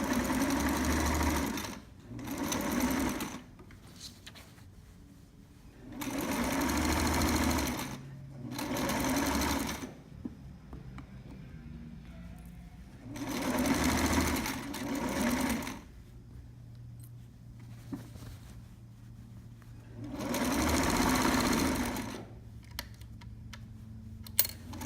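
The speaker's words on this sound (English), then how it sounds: "This machine is also struggling a little bit with the thickness" A sewing machine stitching thick fabric for a trapper's hat runs in short bursts of rapid mechanical whirring, each lasting a second or two and separated by quiet pauses, with the motor sounding labored.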